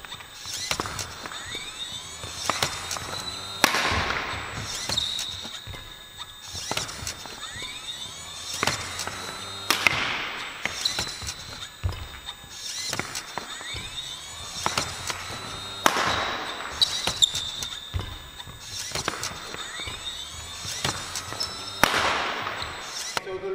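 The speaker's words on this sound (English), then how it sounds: "So a combination of shots shot out randomly, so I can't preempt where they're going." A badminton multi-shuttle feeding machine fires shuttles at random in a repeating cycle of sharp thumps and clatters, with a mechanical whir in between, sounding close and fairly loud.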